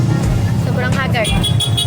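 A tricycle rides through busy traffic, with a rumbling motor and passing cars, brief horn toots and a crowd around, while voices talk over the road noise.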